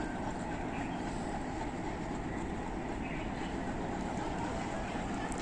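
Kohat Express train at Kohat railway station in Pakistan, a continuous rumbling, rattling roar of rail cars that holds steady and loud throughout the few seconds.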